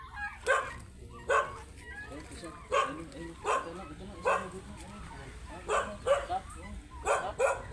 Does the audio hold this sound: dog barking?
yes